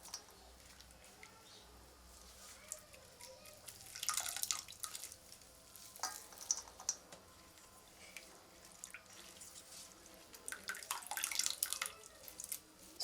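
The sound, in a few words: squeezing water out of ground banana flower by hand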